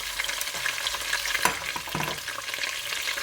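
Carrots and celery stir-fry in a hot pan with a constant sizzle. Several scraping stirs cut through the sizzle, close by and moderately loud, with no talking.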